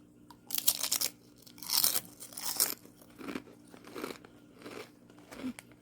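Close, crisp crunching of salt and vinegar potato chips being bitten and chewed, with several irregular bursts of crackling over a low background hum.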